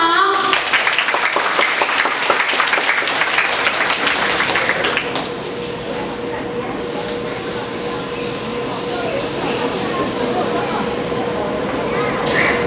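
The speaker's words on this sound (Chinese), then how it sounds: "来，小朋友拍手。" Children clapping together at a scripture-recitation event, a dense burst of many hands clapping for about five seconds, then fading into a murmuring room with voices underneath.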